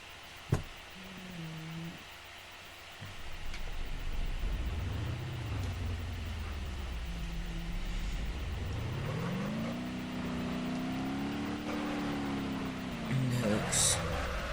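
A car engine in the driving game BeamNG.drive drones steadily, its pitch rising and falling as the car accelerates and shifts, with a brief blip at the start and a sharper flurry near the end.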